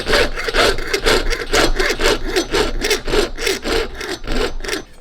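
A jeweler's saw cuts a bezel strip free from a sheet of silver in steady, rapid back-and-forth strokes, close and loud, with no talking.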